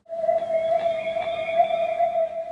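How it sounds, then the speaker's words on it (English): A cat's meow transformed by audio effects into an eerie, sustained tonal wail like a space whale, one long steady pitched cry with faint wavering over about two and a half seconds. "when you put the sounds back on, he sounds like a space whale"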